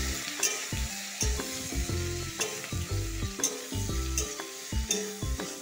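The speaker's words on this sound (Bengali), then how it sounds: "নাড়াচাড়া করবো" Squash, potato and tomato curry with salt and turmeric is stirred in a frying pan, giving a soft sizzle broken by repeated scraping and clinking strokes of a spoon against the pan.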